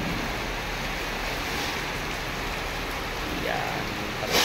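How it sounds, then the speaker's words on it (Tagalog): Heavy rain pours down steadily in a dense, loud wash of hiss and patter that never lets up, with no voices over it. "Sobrang lakas ng ulan dito sa amin."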